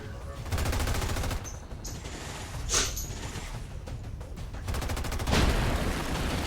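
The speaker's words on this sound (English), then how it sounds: "Why are everyone shooting at Ashley?" Sustained automatic gunfire in XCOM 2, loud rattling bursts close by that come in waves, pause briefly and resume, with a louder burst near the end.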